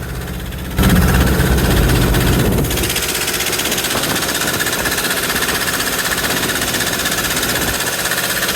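A fishing trawler's engine pounds steadily and loudly during a storm on the Bay of Bengal, a dense, rattling, unbroken drone with a heavier burst near the start, no voices.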